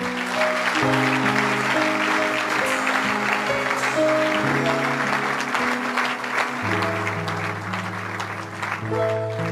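A church congregation claps steadily in praise of the Lord, the applause sustained and dense throughout, over a backdrop of held keyboard or organ chords.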